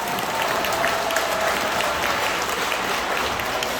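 A crowd applauds at a church press conference, dense steady clapping that holds evenly throughout.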